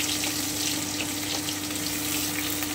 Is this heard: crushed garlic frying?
yes